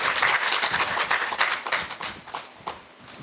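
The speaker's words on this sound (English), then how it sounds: "a round of applause" Conference audience applauding a speaker, a burst of brisk claps from a modest crowd that thins into scattered claps and fades over a few seconds.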